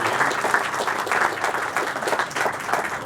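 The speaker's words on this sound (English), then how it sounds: "So, round of applause, please, for Ken." Applause from an outdoor crowd at a groundbreaking ceremony, steady sustained clapping from many hands at moderate distance, continuous for the whole stretch.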